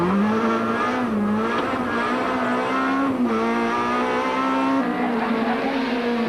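A rally car at the 2003 Cape Rally roars loudly at speed, its engine note rising and dipping as the tyres scrub and squeal through a slide.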